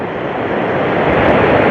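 A stormy sea whipped by strong wind during flooding gives a dense, loud, continuous rushing roar that swells slightly over a brief moment, with no voices.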